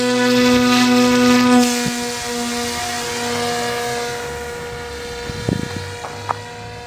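A homebuilt drone's motors whine with a steady multi-toned drone at launch into the wind, fairly loud at first, then easing slightly, with a few light knocks toward the end.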